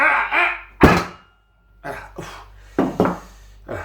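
A single heavy thud of a blow used to kill a rabbit before cooking it in white wine, sharp and close, followed by a few softer knocks and bumps with silence between.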